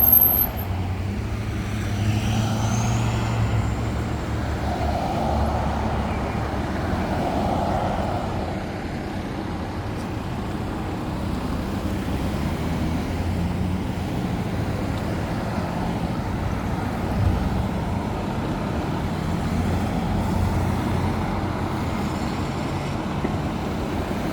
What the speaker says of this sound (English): truck turning behind me here. A lot of heavy traffic.